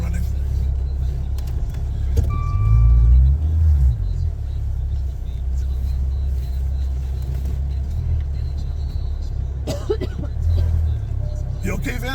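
A parked Maserati idles with a steady, deep low rumble that swells briefly, while people talk nearby over the engine.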